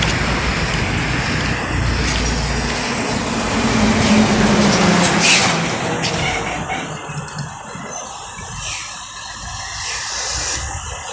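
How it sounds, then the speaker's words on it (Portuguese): Cars queue in heavy traffic at a COVID-19 vaccination line, a loud continuous road roar that swells midway as vehicles pass close, then thins to a quieter background hum. "porque tem muito carro."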